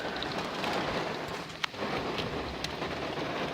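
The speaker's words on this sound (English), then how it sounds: "it started raining." Steady rain patters down close by in a constant hiss, outdoors beside a 2008 Dodge Dakota, with a sharp drip or tap standing out now and then.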